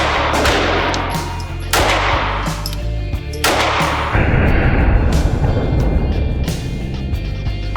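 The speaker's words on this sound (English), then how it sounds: "So this is the Canik TP9 Elite." A Canik TP9 Elite pistol fires several sharp, loud shots at a shooting range, spaced about a second or two apart, followed by a stretch of outdoor rumble and background noise.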